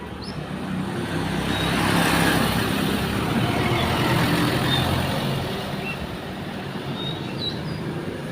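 A Colt minibus on a village road rumbles past nearby: a steady, loud broadband roar that swells in the middle and slowly eases off, with no one speaking.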